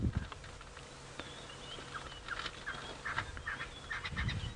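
A spurfowl gives harsh, scratchy calls at sunrise on a safari drive, in a run of quick, uneven bursts that grow busier toward the end, heard at a moderate distance over a faint background hum.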